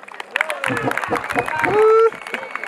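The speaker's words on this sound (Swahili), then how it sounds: "Wapi makofi ya Mrashia?" A student crowd at a Muhoho High School talent showcase claps for a performer, with scattered sharp claps alongside loud voices and shouting.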